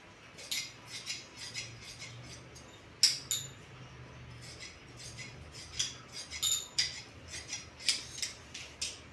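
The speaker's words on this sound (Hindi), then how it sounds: "ये हमने कट कर लिया है। अब गले के लिए निशान लगा लेते हैं।" Scissors snip through blouse fabric in a quiet room, giving a run of sharp, close, crisp cutting clicks spaced irregularly with no one talking.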